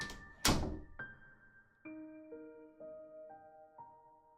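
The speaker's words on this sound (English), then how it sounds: "followed by the sound of a closing door" A door closes with a single dull thunk near the start, followed by a series of clear, rising tonal notes in an otherwise quiet room.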